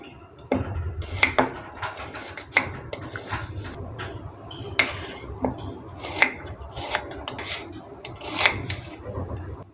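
Knife chopping an onion into small pieces on a board, a series of irregular close taps and scraping cuts, with no voices.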